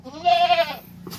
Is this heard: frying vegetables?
no